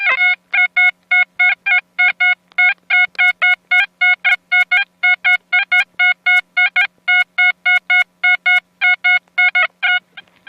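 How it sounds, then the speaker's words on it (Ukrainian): Metal detector signalling over a buried target while searching for coins and jewellery: a steady, loud run of short repeated electronic beeps, about three per second, each a bright multi-tone pulse, with no voices. "Друзі, у мене отличний сигнальчик."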